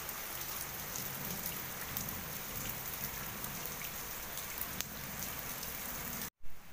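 Steady, even rain falling on surfaces, a continuous soft hiss with scattered drops, alone and at moderate distance before cutting off abruptly at the end.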